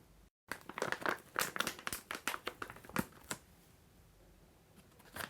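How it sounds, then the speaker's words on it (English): A cooling bandage rolled up and sealed back into foil packaging, a dense run of crinkling, rustling crackles close by that fade to quiet near the end. "you can roll the bandage back up and reseal it in the foil"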